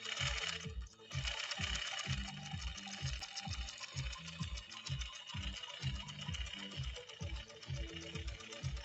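A 1950s Pfaff 130-6 sewing machine drives its needle through stiff leather hide in a steady, thumping rhythm of heavy stitches, running close and continuous.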